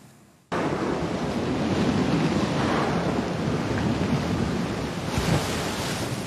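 Indian Ocean waves off Réunion in a documentary, heard as a steady, loud broadband wash of surf and rushing water that starts abruptly and continues without pause, with no voices.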